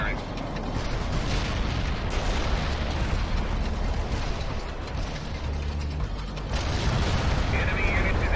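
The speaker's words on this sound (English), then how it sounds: "Artillery firing." Artillery barrage in the World in Conflict strategy game, a dense rumbling wash of explosions and booms continuing throughout, with battlefield voices faintly mixed in.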